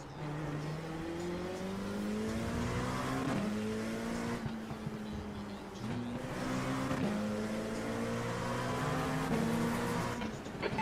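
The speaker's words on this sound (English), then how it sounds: "So I'm racing a Hyperion LMP2 and a Hyperion GTP just dive bombed me from like 3 miles out." Hyperion LMP2 prototype race car in a racing video game at the Nürburgring Grand-Prix circuit, its engine droning steadily with rising and falling revs through gear changes, loud and continuous throughout.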